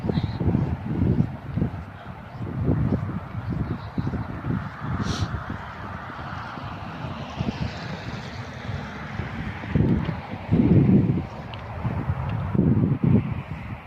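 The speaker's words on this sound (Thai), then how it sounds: "มีลมนิดนิด" Gentle wind rushes across an outdoor microphone in soft, uneven gusts, with low rumbling buffets and no voices.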